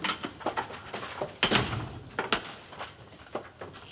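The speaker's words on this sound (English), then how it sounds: "Shut the doors." Several doors thud and bang shut one after another at a moderate distance, with scattered clunks and rattles in between.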